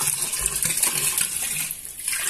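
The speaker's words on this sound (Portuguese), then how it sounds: "Eu coloco 1 litro de cloro." Liquid chlorine bleach poured into a washing machine drum during cleaning, a steady close gushing splash lasting a couple of seconds.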